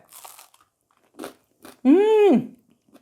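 Crisp gluten-free white bread topped with strawberry jam gets a few sharp, close crunchy bites, then a short pause and a drawn-out hummed voice of enjoyment.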